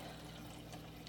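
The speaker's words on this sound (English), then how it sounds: "and then we'll fill it with water" Water pours steadily onto coffee grounds in a French press for cold brew, giving a continuous, faint splashing stream with no talk over it.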